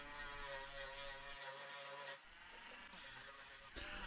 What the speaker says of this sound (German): Da muss noch ein wenig geschliffen werden.